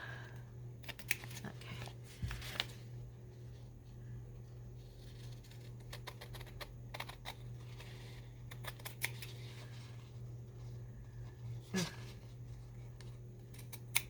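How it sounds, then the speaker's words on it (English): Scissors snip through Christmas fabric in a quiet room, with scattered short cutting clicks and rustles over a steady low hum, faint and close. "these scissors will snip at the tip"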